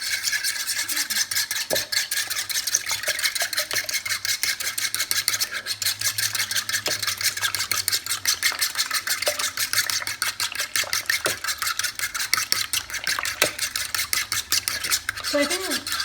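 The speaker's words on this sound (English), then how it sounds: "So I usually add it here with the eggs and then I beat them" Eggs with salt beaten by hand in a bowl for tortilla de patatas, a fast continuous rhythmic whisking and clicking of utensil against the bowl, close and steady throughout.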